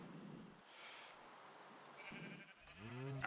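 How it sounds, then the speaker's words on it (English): A grey sheep in the Minecraft Tekkit modpack gives a soft, quavering bleat near the end, after a quiet stretch of faint game ambience. "So we've got the grey sheep now."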